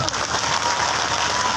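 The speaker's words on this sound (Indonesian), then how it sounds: "tepuk tangan untuk beliau." Audience applause at an Istighosah Kubro and National Santri Day gathering in Sidokerto village, a steady, dense wash of many hands clapping close by that fills the whole short stretch without a break.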